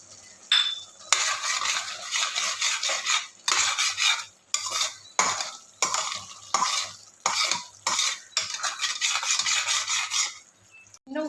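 A spoon stirs veg chicken gravy in a pan in quick repeated bursts of scraping and clinking over a soft sizzle, with brief pauses between strokes.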